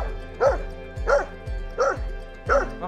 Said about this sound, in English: look at the little puppies!